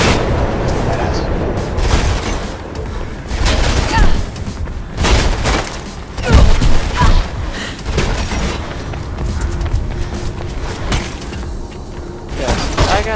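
Dense, continuous gunfire and booming explosions from the video game Mirror's Edge fill the whole stretch, loud and unbroken, with a voice talking over the game sound.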